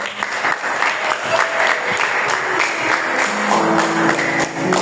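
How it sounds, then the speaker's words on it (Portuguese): A congregation claps during a church service, with steady, lively applause and audible individual hand claps continuing throughout. "Aplauda o nome do Senhor."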